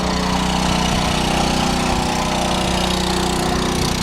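A backup generator driven through a pulley setup of nearly 6-to-1 runs on a test, giving a steady, loud, close mechanical drone with a constant low hum that holds without change throughout.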